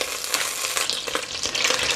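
Butter sizzles steadily in a pan over medium-high heat, a close, continuous crackle with small bursts of spatter throughout.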